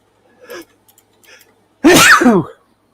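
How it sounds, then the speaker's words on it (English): A single loud, sharp human sneeze, preceded by a couple of faint inhaling breaths, close to the microphone with no talk over it. "I knew that sneeze was coming."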